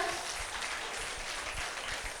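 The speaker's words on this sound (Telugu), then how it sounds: "ఒక్కసారి గ్రూప్ అందరికీ గట్టిగా చప్పట్లు కొడదాం." An audience claps loudly for a dance group at an anniversary event, a dense continuous wash of applause with no break.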